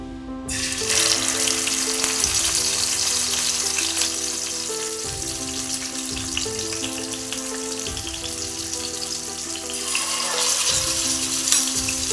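Katla fish frying in hot mustard oil gives off a loud, steady sizzle that runs the whole time. A low musical tone plays underneath and no one speaks.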